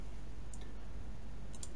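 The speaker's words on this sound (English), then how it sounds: "right hand mouse click, batch" Two quick double clicks of a computer mouse, faint and close, separated by about a second over a steady low hum.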